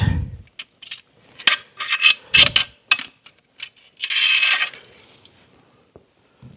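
Small loose needle bearings from an IH Scout 800 transmission being picked out by hand, giving sparse metallic clicks, taps and scrapes in irregular bursts, close and fairly loud, with a longer rattling scrape partway through and no talking.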